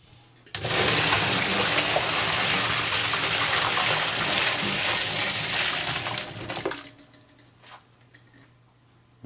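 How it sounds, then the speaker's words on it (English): Hot tap water gushes loudly into a kitchen sink for about six seconds, then cuts off into a quiet room. "and then cover them with some hot water."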